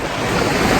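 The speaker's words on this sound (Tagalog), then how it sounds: "mapipil nila yung ambience ng dagat talaga" Sea surf at the beach on Calaguas Island, Camarines Norte, a loud continuous wash of waves mixed with wind buffeting the microphone.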